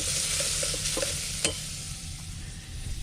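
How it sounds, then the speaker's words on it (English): Fat sautéing in a pan for a stew, a steady bright sizzle with occasional stirring scrapes and a brief knock, close and continuous. "we got that initial bit of fat in there sauteing, getting some of that to be a liquid"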